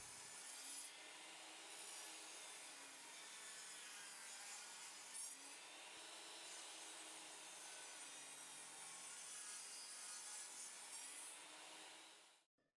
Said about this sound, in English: Mill flat, parallel sides on the stock in preparation of attaching the template.